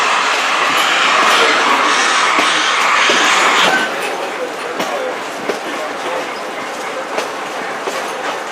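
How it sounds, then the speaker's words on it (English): Great Smoky Mountains Railroad excursion train rolling along the old Murphy Branch, its steady rumble and rail clatter loud at first, then easing to softer wheel clicks and knocks with the locomotive far ahead. "if you guys are wondering where the locomotive is, he's up there"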